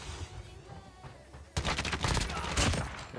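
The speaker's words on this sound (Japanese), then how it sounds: "まだ銃声してますね。" Gunfire in a Call of Duty Mobile battle royale match: scattered distant shots give way to a loud, rapid burst of automatic fire in the second half, with faint speech underneath.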